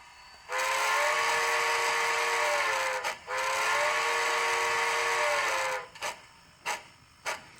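A Bachmann 2-10-0 model steam locomotive with DCC sound sounds its whistle: two long, loud blasts separated by a brief gap, followed by three short toots, with no talking over it.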